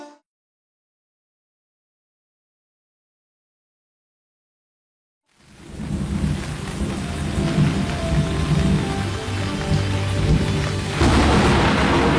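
After a stretch of silence, heavy rain pours down in a dense, loud, steady hiss with low rumbling underneath, continuing without letup to the end.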